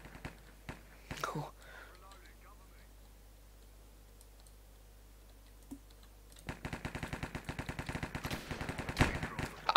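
Rapid gunfire from a sniper rifle in the Minecraft Cops and Crims mini-game, a quick burst of sharp, close repeated clicks near the end, following quieter scattered clicks and soft voices.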